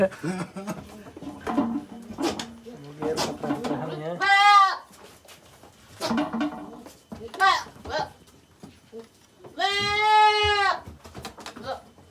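Boer goats, does and large bucks, bleat loudly in two wavering calls, one near the middle and another longer one later, while people talk intermittently in between.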